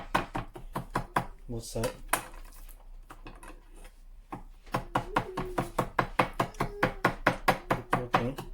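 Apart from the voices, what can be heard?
knife scoring beef sirloin steak for marinade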